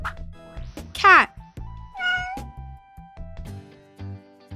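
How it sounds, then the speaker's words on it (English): A cat gives two distinct meows, the first sharp and rising, the second lower and drawn out. Soft background sounds sit underneath, with no clear speech. "Cat."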